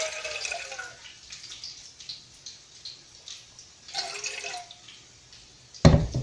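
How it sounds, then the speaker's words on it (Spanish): Broth pours into a pot while stuffed chilaquiles are being cooked, making soft trickling and splashing liquid sounds in uneven waves, with a louder, closer splash right at the end. "Voy a agregar una parte nada más del caldo."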